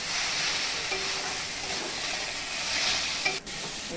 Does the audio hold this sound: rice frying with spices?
yes